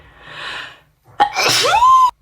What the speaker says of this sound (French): J'éternue et je vous dis après.